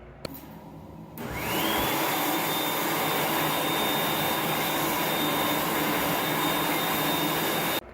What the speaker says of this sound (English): I did end up getting a trim dry as a result, which it was at the time my first ever one